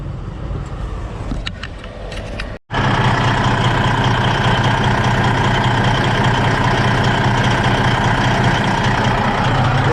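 An engine on a roadside vehicle fires up after a coolant leak repair at a rest area, cutting in abruptly after a short quiet gap, then settling into a steady, loud, close idle that runs unbroken.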